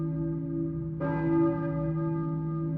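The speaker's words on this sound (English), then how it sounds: "I hear a church bell, maybe? Who's ringing the bell?" A church bell tolls in the Silent Hill video game, one deep resonant strike that rings out and lingers over a steady low droning background.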